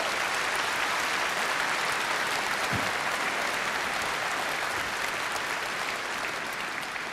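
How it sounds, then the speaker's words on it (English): Audience at a political party conference in Birmingham gives a long, even round of applause, a dense wash of many hands clapping at constant loudness throughout. "that is worth a round of applause"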